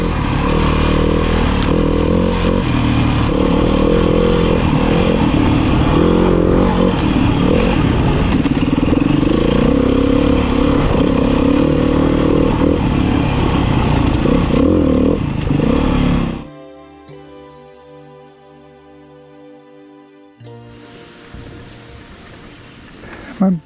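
A Beta 390 RR-S four-stroke off-road motorcycle engine runs hard and loud up close, with rough, clattering revs and wind buffeting, then abruptly drops away to a much quieter idle-like hum with faint tonal sounds.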